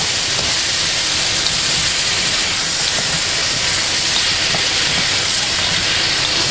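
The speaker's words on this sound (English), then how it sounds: "add your stir-fried vegetables to this. Just give it a stir." Stir-fried vegetables hit a pan with golden-browned spaghetti, producing a loud, dense, unbroken hiss of sizzling close up, with faint stirring.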